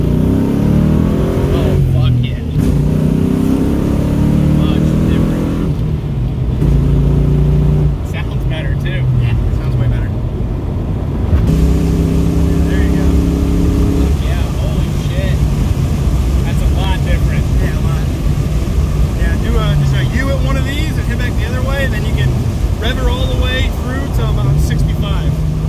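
A 1999 Ford Mustang with a 4.6-litre two-valve V8 and basic bolt-on upgrades accelerates on a test drive, its engine note rising and falling through revs from inside the car while people talk over it.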